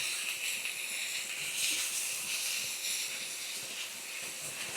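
Cheesesteak meat sizzles steadily in a hot pan, a broad, even hiss of frying that holds at a constant level throughout with no talk.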